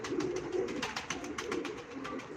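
Pigeons at a Turkish pigeon auction coo in a steady, throaty stream of repeated calls, close and fairly loud, several birds overlapping with no talk.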